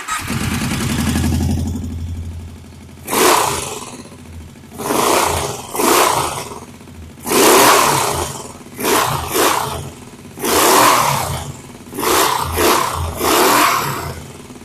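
A Kawasaki Brute Force ATV engine with a welded, chopped exhaust idles roughly, then revs in a string of sharp throttle bursts, about eight loud blips close by.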